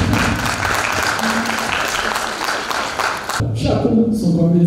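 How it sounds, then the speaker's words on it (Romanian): Applause from an audience at a local live event, a dense steady wash of clapping throughout that cuts off abruptly near the end, giving way to a voice over light crowd noise. "aplauze"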